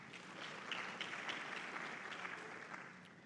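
Faint, distant audience applause at an African plant breeding conference, a soft sustained patter of many hands lasting a few seconds and heard alone.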